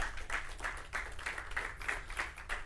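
A church congregation claps together in a steady, even rhythm as an offering of applause, about eight crisp beats in a row, moderately loud with no voices over it.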